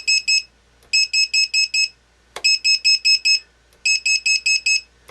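Low-voltage alarm buzzer on an RC receiver, wired for discovery mode, sounding loud, shrill beeps in four quick bursts of about five pulses each, close by and alone.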